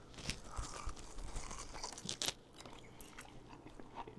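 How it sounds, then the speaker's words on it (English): A close, crisp bite into a crunchy Hot Cheeto–coated buttermilk chicken drumstick, followed by several loud crackling chews with one sharp burst of crunch midway, no talking. "Find a crunchy side, a nice meaty, juicy side. I'm going right here and give this a bite."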